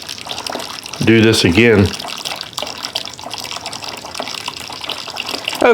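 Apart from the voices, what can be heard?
hot water poured over grain mash while sparging whiskey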